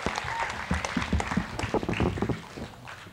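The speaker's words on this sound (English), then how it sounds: "I want lots of screaming and clapping throughout" A classroom audience breaks into loud, dense clapping and cheering that fills the room and fades slightly toward the end.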